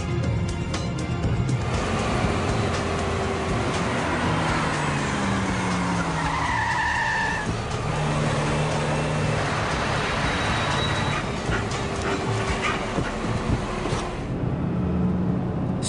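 A car in a hold-up accelerates and drives hard, a continuous loud engine roar with tyre and road noise throughout, close by.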